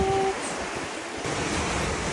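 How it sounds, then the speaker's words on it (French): Very large ocean waves at a beach on Koh Tao island, Thailand, a continuous broad roar of surf with a slight surge midway, loud and steady with no voices. "Les vagues aujourd'hui, c'est un truc de fou"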